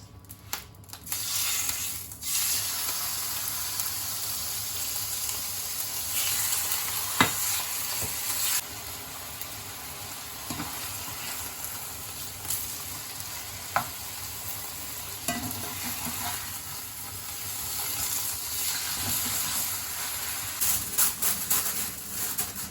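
Beef steak sizzles steadily in a hot pan with sunflower oil, a constant close hiss and crackle with occasional clicks and scrapes, no voices.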